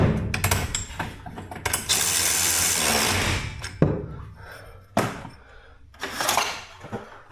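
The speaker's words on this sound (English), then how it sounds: "Ratchet never fails." Ratchet wrench turning during a garage door torsion spring change, giving a run of quick, close mechanical clicks with sharp knocks and a longer grinding stretch, no talk.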